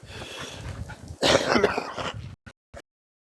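Dogs whimper and give a throaty, strained vocal burst up close, followed by two brief sharp yips before silence.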